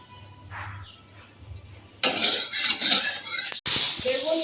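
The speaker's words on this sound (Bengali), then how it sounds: "বেগুন দিয়ে দিয়েছি, এবার ভেজে নেব।" Eggplant slices coated in salt and turmeric dropped into hot oil in a kadai: a quiet opening, then a sudden loud hiss of frying with clinks and scrapes of a spatula against the metal pan, briefly cut off before the sizzle resumes.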